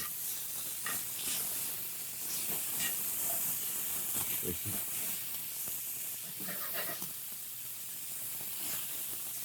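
Shallots sizzling and hissing in a hot pan, a steady broadband fry with faint stirring clatter through the clip and no one talking.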